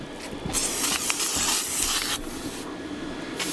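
An aerosol spray can hisses onto glass in a loud, close burst lasting about two seconds, with a shorter spurt after a brief pause.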